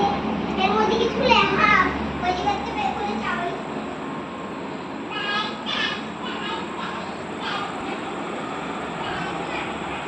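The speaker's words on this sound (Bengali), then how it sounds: "এই যে এই ট্রেনগুলো দেখছে" A rumbling train rolls along steadily, with excited children's voices chattering and calling out over it.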